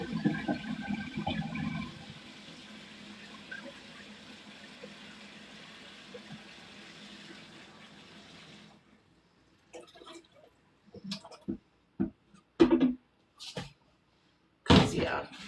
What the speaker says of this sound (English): Fill it up with water to boil the noodles.